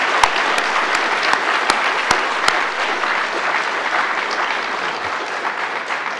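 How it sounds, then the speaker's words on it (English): A large room of delegates at a student association conference celebration applauds together, loud and continuous, with a few sharp individual claps standing out near the start before settling into an even roar. "big round of applause for everybody's contribution"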